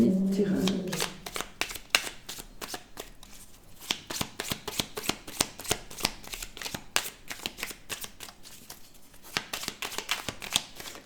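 Oracle cards shuffled by hand in a steady stream of quick crisp riffling slaps, close and continuous throughout, with a brief voice at the very start.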